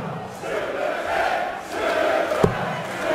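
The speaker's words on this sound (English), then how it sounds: "The crowd was singing Super Ted" Darts crowd in an arena chanting in unison for player Ted Hankey, a sustained, rising and falling sung chant from a large audience at a distance.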